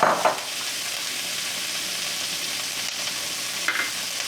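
Green beans and garlic sizzle in a pan with a steady, bright frying hiss, close and continuous, broken by a couple of brief stirring scrapes.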